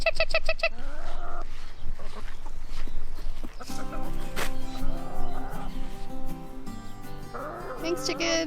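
Backyard chickens cluck and call in short bursts near a garden, the clucks overlapping with busy background sounds and no clear speech.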